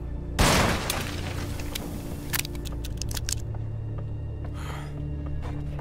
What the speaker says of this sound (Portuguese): Mas eu vou atirar mesmo assim.